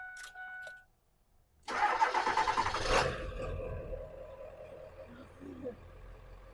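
Low-mileage Ford 7.3 Powerstroke diesel in a dentside truck cranking and catching, then settling into a rough, rumbling idle, close and fairly quiet, with a brief chime beforehand.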